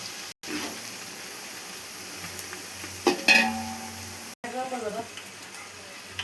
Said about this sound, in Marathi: कांदा आपला अर्धा तळून झालेला आहे बघा. असं सारखं हलवत राहायचं आहे, नाहीतर करपल्यागत होतोय.